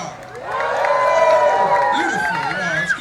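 A crowd at an ArtPrize Top 25 presentation cheers and whoops loudly and steadily for about three seconds, with voices shouting over one another.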